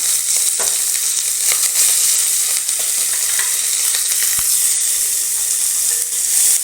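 Onions frying loudly in a pan for a bitter gourd fry, a dense, close, steady hiss of hot oil with occasional stirring scrapes beneath it.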